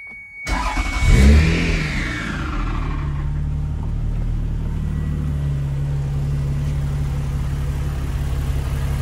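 A Toyota 2GR V6 fitted in an MR2 cranks and catches with the exhaust on, flares in a brief rev, then settles into a steady, close, low idle rumble.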